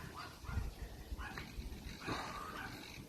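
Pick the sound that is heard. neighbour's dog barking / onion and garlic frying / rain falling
neighbour's dog barking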